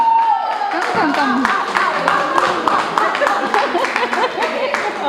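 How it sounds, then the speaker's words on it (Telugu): Applause from an audience, with many hands clapping in a dense, steady patter alongside a voice talking over it throughout. "ఒకసారి బిగ్ అప్లాజ్ అండి"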